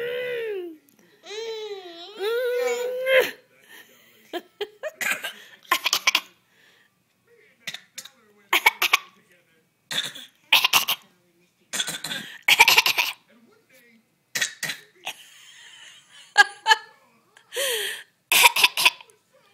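A pet bird imitates a cough, giving a series of short, raspy bursts in irregular clusters, some doubled, mixed with whistle-like chirps and babble, while a person talks nearby in between.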